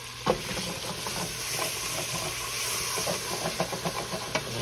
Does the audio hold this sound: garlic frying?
yes